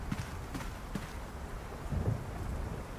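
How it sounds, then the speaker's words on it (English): Rain and rolling thunder ambience from World of Goo 2, set in a city of endless night and constant rain: steady close rainfall with soft low rumbles and a swell of thunder near the middle, no voices. "In a city of endless night and constant rain."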